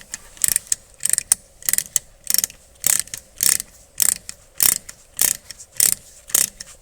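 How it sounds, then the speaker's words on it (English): An open-ended wrench works a bolt on a 2015 VW Jetta TSI 1.8T engine, making about a dozen crisp, evenly spaced metallic clicking bursts, close and clear with no talking. "I found it easier to use this open-ended wrench on this bolt here."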